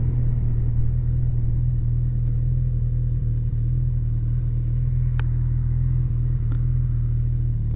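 A 1980 Yamaha XS1100 Special motorcycle engine runs steadily at a low, even idle rumble, close and continuous, with a couple of faint ticks over the drone and no talking.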